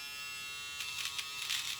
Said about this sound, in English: It's a nose hair trimmer.